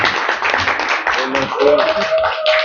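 An audience at a Gabonese diaspora entrepreneurship conference applauds the delegation from Nancy, dense steady clapping filling the room while a voice talks over it.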